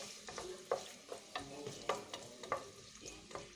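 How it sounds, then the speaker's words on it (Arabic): Carrots fry in hot oil with a steady, quiet sizzle, broken by a few sharp scrapes and taps of a stirring utensil against the pan. "نحطوا الجزر تاعنا يتقلى هو الاول"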